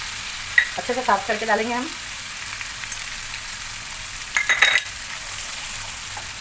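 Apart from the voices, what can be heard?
ginger-garlic and green chili paste frying in pan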